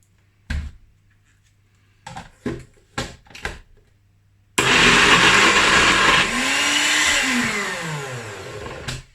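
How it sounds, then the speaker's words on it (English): A blender whirs loudly and steadily after several short knocks and clatters, pulsing and shifting pitch as it purees apple puree with a pinch of salt into date caramel, close and alone without talk. "We're gonna blend this until smooth."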